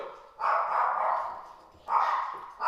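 A dog barks in sustained, drawn-out bursts nearby, three of them separated by short pauses.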